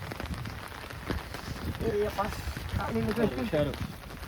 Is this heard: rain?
yes